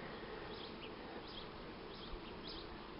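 Honey bees from a hive with laying workers drone in a steady, dense buzz that holds evenly throughout, close and continuous with no voices.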